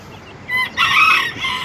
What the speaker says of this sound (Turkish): bunlar bir bireste tavuğumuz ve civcivleri